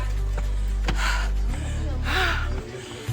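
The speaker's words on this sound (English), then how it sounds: "I'm seriously panting" Heavy, breathy panting from a person worn out after climbing Olumo Rock in Abeokuta, with two or three loud, drawn-out exhalations up close over a steady low rumble.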